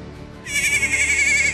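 A goat in Haiti gives a single loud, close bleat lasting about a second, with no talk over it.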